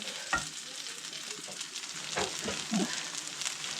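Beans being sautéed in a pot on a home stove, giving a steady soft sizzle with occasional stirring scrapes and clinks, close and fairly quiet, no talking.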